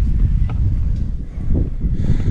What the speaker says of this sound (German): Ah, noch ein bisschen den Wind genießen.